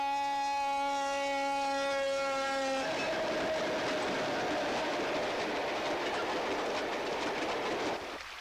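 A train horn sounds a long steady blast, then a loud train crossing the Madawaska River roars close past with heavy rumbling and rattling until it fades away.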